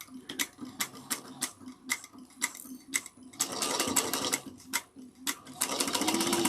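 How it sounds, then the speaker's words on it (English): Sewing machine stitching fabric for a bag, with a run of short separate needle bursts that gives way to longer continuous whirring passes, loud and close with no voices. "So we're going to sew down to that 3/8 of an inch mark."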